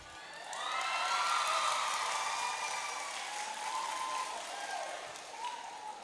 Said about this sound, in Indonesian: Tepuk tangan berarti respon baik